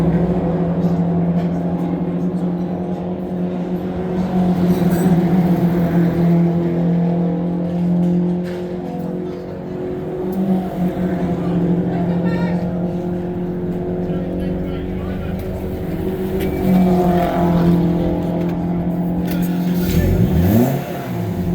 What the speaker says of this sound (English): a lot of cars coming in